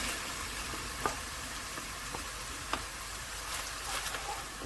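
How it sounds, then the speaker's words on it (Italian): Tomato passata sizzles steadily in a hot pan on the stove for lasagna, a continuous close frying hiss with a few sharp pops and light stirring clicks, no voices. "Aggiungiamo la passata di pomodoro."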